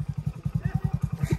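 A motorcycle engine idles with a steady, rapid low thumping pulse, close and fairly loud, in a village setting with no voices in the short stretch.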